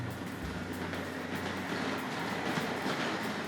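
A Hornby Dublo Co-Bo model locomotive runs along a model railway track, giving a continuous close whir and rattle with faint rhythmic clicking of wheels over rail joints.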